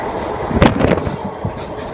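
A diesel locomotive train passes close by with a loud rumbling roar and a brief surge of clattering wheel noise.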